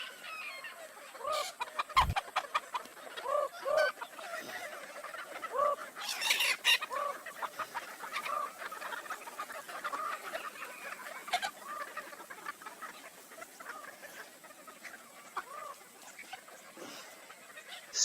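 Broiler chickens of strains raised in Indonesia cluck and squawk in a loose, busy chorus, with scattered sharp calls over a quiet barnyard background.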